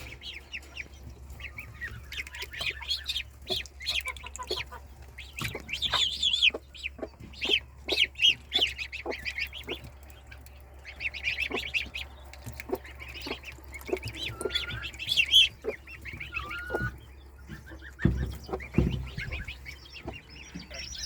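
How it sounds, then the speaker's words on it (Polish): Young chicks peeping and a brooding hen clucking inside a henhouse, a continuous flurry of soft cheeps and clucks over a low hum, close by and moderately loud. "Tu są nasze kurczaczki razem z kwoczką."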